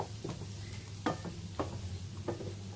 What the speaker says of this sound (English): keep stirring and just keep checking the onions and the garlic so it's not browning too much